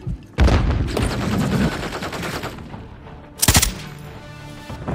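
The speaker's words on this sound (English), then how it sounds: "Throwing grenade out." Gunfire and a grenade blast ring out in Call of Duty: Modern Warfare III, with a loud burst of shots up front and a second sharp, heavy impact about three seconds later, both close and harsh.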